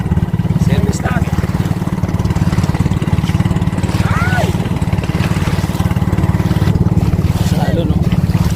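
Motorboat (bangka) engine droning steadily and loudly on a wavy river or lake, a constant low rumble throughout with people talking over it.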